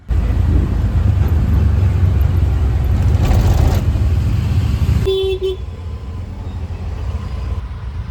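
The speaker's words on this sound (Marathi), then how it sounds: "आणि लवकरच आपली गाडी येते." A car pulls up with its engine running and a steady road rumble, then a brief honk of its horn around the middle, followed by quieter idling.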